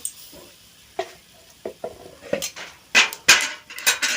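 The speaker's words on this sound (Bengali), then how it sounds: "সর্ষে ফোড়ন দিয়ে দেব, তারপর শুকনো লঙ্কার গুঁড়ো দিয়ে দেব, তারপর হলুদ দিয়ে দেব" Whole mustard seeds, chili powder and turmeric sizzling in a hot pan for a fish curry, with scattered stirring scrapes and clinks of a utensil against the pan, building to louder bursts near the end.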